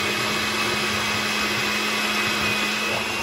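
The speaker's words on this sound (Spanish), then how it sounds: "Ahora lo vamos a colocar en una licuadora para licuarlo perfectamente." A blender whirs at a steady high-pitched drone blending red chili sauce for tamales, running continuously and loud throughout with no pauses.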